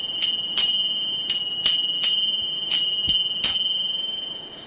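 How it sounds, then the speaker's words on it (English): Small hand bells ring clear and bright, struck in a steady rhythm of about eight strokes, each leaving a sustained high tone. They sound close and loud, as used for kirtan chanting in a room, with no talking. "those are nice bells"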